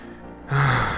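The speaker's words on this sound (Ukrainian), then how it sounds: "Я так позіхнув" A single short yawn, a quiet intake of breath swelling into a louder, drawn-out open-mouthed exhale, close to the microphone.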